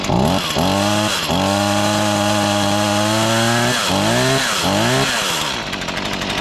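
Stihl MS162 chainsaw running on its first startup, loud and close, its engine buzzing steadily with a few quick dips and rises in revs before settling to a rougher idle.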